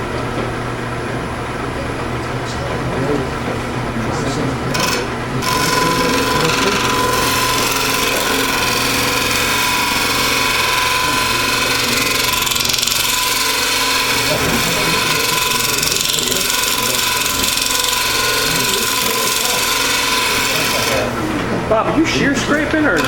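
A woodturning tool shear scrapes a two-piece wooden hollow form spinning on a lathe at a woodturning demonstration, a steady close rasping hiss that runs almost unbroken for the full length, with the lathe's hum beneath it.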